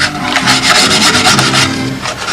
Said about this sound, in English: Give me a decent piece of sandpaper there.